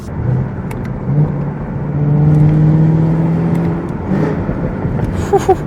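A Chevrolet Camaro ZL1 on a new tune accelerates, its engine revving in a rising, droning exhaust tone that swells loudly near the middle and then eases, heard up close with little else around it.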